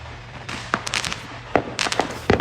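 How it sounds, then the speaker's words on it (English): Fourth of July fireworks burst in scattered, irregular pops and crackles seen from a balcony, a few sharp bangs spaced across the moment at moderate distance, over a low steady hum. "Beautiful fireworks though."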